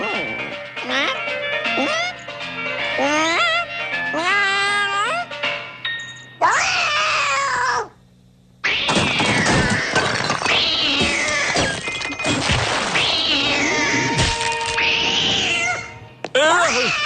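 A cartoon cat meows again and again in wavering, drawn-out cries and caterwauls, loud and close, mixed with chimes and childlike voices talking, with a brief silent gap midway.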